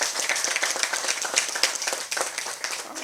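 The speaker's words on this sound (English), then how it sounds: "let's give Congressman Scott another round of applause" An audience at a ribbon-cutting ceremony for Highway 92 breaks into dense, moderately loud applause that holds steady for a few seconds, with scattered sharp claps standing out.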